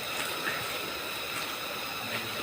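A river flows nearby at dusk in a mountain setting, a faint, steady hiss of running water with soft gurgles and no voices.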